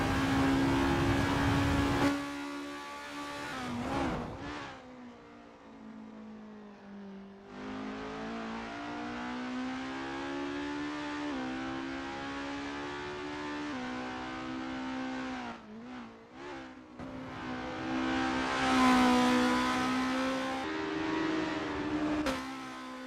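Formula race cars in the Assetto Corsa video game at the Mont Tremblant circuit: engines drone and rise through the gears, dip and climb again, with a loud revving surge near the end and no speech.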